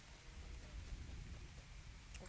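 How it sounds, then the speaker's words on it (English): Rain begins falling in the video game Lego Fortnite, a faint, steady patter of drops with soft low rumbling underneath, continuous for the whole stretch. "Oh, it's starting to rain"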